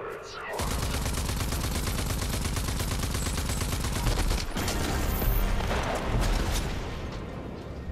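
Turrets in Rage 2 open up after a short pause, pouring out a loud, continuous stream of rapid gunfire with a few heavier thuds layered in near the end.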